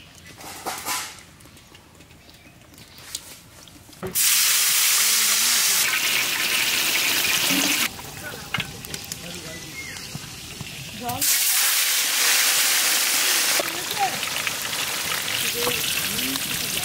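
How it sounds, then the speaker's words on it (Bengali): Katla fish fries in mustard oil in a kadai on a stove, a loud crackling sizzle that bursts in after a quieter opening and surges in long stretches, with faint voices in the background. "এখন আমি কাতলা মাছ ভাজবো, কড়াই চাপাই দিয়েছি সরষের তেল।"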